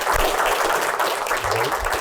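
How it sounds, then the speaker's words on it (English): An audience gives a steady round of applause after a university talk on paper ballots and hand-count audits, a dense, even wash of many hands clapping at a moderate distance. "I think it's a round of applause"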